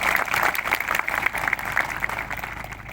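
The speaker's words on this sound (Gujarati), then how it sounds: "એમના માટે જોરદાર તાળીઓ પાડી લો." A crowd applauding a party member and corporator welcomed as a guest at an Aam Aadmi Party village rally, a steady wash of clapping heard throughout at moderate level.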